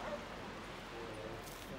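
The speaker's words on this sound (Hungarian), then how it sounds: "Kutyák találkoznak, ismerkednek, szaglásszák egymást." Dogs bark, yip and whimper as they meet and sniff one another on a beach. Short, fairly close calls rise over a steady roar of wind and surf, and a voice briefly speaks.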